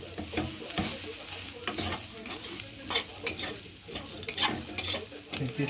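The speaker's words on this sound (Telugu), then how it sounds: "అలా మొత్తం బాగా కలుపుకోవాలి" Curry with coriander being stirred in a pan, close repeated scraping strokes of a spoon over a light sizzle, an uneven rhythm of stirs with no talking.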